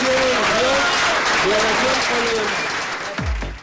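A crowd applauds at a cabinet swearing-in for the Ministry of Federal Planning. Sustained, dense clapping fills the room while a voice talks over it, ending with a sharp thump.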